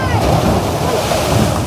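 Strong storm-driven ocean waves pound the shore in a continuous roaring wash, loud and close, with wind buffeting the microphone and no clear pause between surges.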